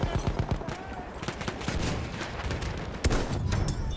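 Gunfire in Battlefield 1 multiplayer: rapid overlapping shots and bursts crackle in a dense battle din, with a sharp louder report near the end amid continuous combat noise.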